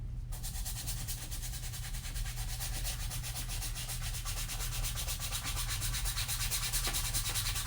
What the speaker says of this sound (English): this one can handle me brushing it both ways